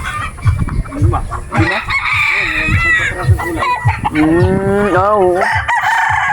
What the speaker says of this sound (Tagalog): Dami manok dito mga kadyos.